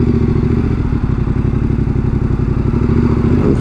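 A Yamaha Tenere 700 motorcycle at a car wash sits at idle with a steady, close, low throbbing beat and faint mechanical clatter, continuous and without speech.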